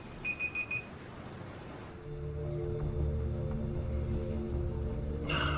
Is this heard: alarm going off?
yes